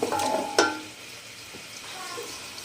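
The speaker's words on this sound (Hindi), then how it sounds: "अब मैं इसमें ये प्याज और लहसुन अदरक भी ऐड कर दूँगी एक साथ" Onion, garlic and ginger hit a hot pan for dal makhani, giving a steady sizzle with a couple of sharp clatters of a spoon or pan early on, then a quieter ongoing fry.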